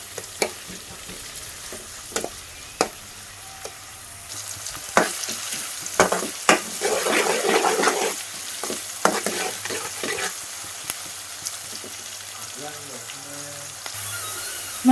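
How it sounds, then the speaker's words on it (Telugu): Onions fry in a pan for a chicken gravy curry, with a steady sizzle and sharp utensil clatters from stirring. The sizzle swells louder in the middle stretch, and faint voices are heard. "మనకి ఉల్లిపాయలు కూడా బాగా ఫ్రై అయినాయి కదా."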